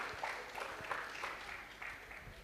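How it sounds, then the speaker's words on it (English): An audience applauds silver medal recipients at a Kumon awards ceremony, a steady, even wash of clapping held for a couple of seconds at a moderate distance, with no talk over it. "can we have a huge round of applause for all the silver recipients right now?"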